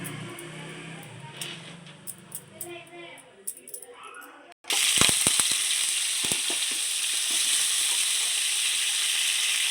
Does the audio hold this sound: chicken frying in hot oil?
yes